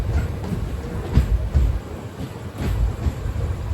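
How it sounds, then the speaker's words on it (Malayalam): Silambu Express pulling into Sivakasi railway station, a steady low rumble of the moving train with soft periodic clacks of wheels over rail joints, continuous and close. "ട്രെയിൻ ഇപ്പോൾ ശിവകാശി റെയിൽവേ സ്റ്റേഷനിലേക്ക് എത്തുകയാണ്"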